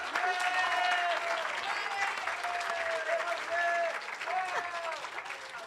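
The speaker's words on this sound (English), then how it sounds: "Okay, big round of applause." Sustained audience applause at an awards ceremony fills the room, steady and loud for several seconds, with scattered cheers and a few voices calling out over the clapping.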